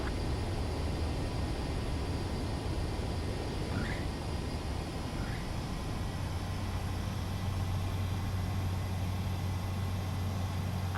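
A combat jet touches down in Ace Combat 7, its steady broadband engine roar holding close and loud throughout, with a low rumbling hum building in the second half as it rolls on the runway.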